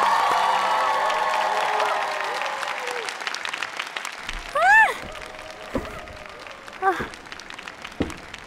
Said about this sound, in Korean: 유진 양에게 다시 한번 응원의 박수를 부탁드립니다